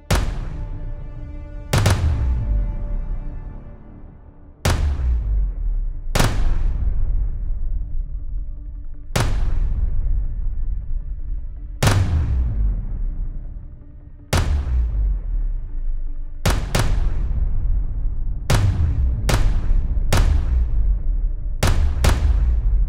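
Atlas Apollo and EOS flagship pistols firing outdoors, about a dozen sharp loud shots at irregular intervals, each with a long booming decay, some shots in quick pairs near the end.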